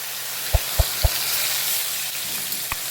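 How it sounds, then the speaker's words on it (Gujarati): Cumin seeds and asafoetida go into hot oil in a home kitchen, and a soft frying sizzle follows, broken by three quick sharp clinks or taps close together and then one more near the end. Nobody speaks. "ચલો મેં જીરું નાખી દીધું છે, હવે હિંગ એડ કરીશું."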